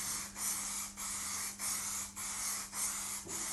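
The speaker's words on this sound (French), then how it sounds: "Donc le fixatif en bombe aérosol que nous passons de cette manière-là." Aerosol can of leather fixative sprayed in short repeated bursts over leather, six broad hissing puffs with brief gaps between them, close and fairly loud with no talking.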